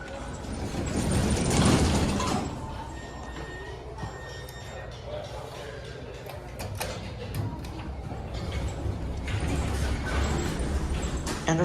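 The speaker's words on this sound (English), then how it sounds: "Showroom elevators at IKEA in Bloomington, Minnesota." An MEI showroom elevator runs at an IKEA store, giving a steady mechanical hum with faint ticks, clicks and a soft rumble of machinery in a reverberant shaft, while a person talks over it in places.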